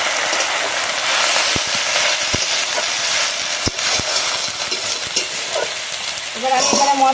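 Spices and a splash of water hit a hot pan of frying green chillies for a masoor dal and water lily stem dish. A loud, continuous sizzle is broken by sharp stirring clicks and scrapes.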